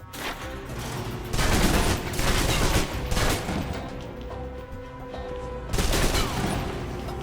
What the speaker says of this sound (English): If you're trapped in close quarters with multiple opponents, the SMGs can help clear the room quickly. Not subtle or quiet